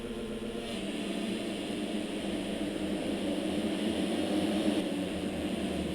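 A pack of 250 motocross bikes revving together at the starting gate in MX Simulator at Unadilla, a steady dense engine roar holding at one level for the whole stretch with no voices.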